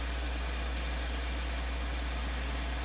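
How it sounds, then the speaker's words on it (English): Steady low droning of a tractor engine driving in the Farming Simulator 2013 video game, an unbroken mechanical hum at low volume with no other sounds. "Faster, tractor, faster."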